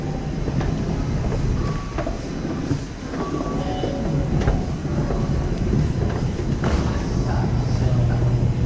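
A new New York subway train rumbles past with steady rolling clatter, rail clicks and brief metallic squeals, loud and continuous throughout.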